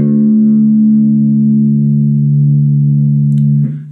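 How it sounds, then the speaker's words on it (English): An electric guitar's low sixth string, tuned down to drop D, rings as a single sustained note, loud and close, slowly decaying before being cut off, with no talking. "So tune your sixth string down till it sounds like this."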